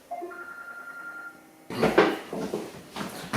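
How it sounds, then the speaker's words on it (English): A telephone rings in a backyard shed, a short electronic trill heard fairly near, then clattering and shuffling noises follow as the ringing stops. "Well, the phone was ringing."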